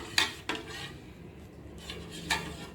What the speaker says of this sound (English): And I'm going to keep stirring till the time the juice is cooked.